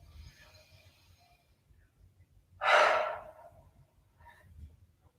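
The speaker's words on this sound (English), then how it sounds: "2 more of these deep exhales. Inhale." A single deep, forceful exhale during a yoga ragdoll stretch, loud and close, rising out of near silence in the middle with faint breathing around it.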